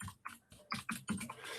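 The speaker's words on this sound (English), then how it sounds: "I'm not sure if you can hear my keyboard, so apologies if you don't like clickety-clack sounds" Clickety-clack typing on a computer keyboard: a quick, uneven run of soft, close key clicks in a quiet room.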